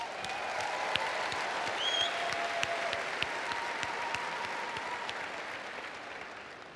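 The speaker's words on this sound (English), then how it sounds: "we should give a huge round of applause to the ACN system" An audience at a leadership training talk claps steadily, a dense, even round of applause that holds for several seconds before tapering slightly at the end.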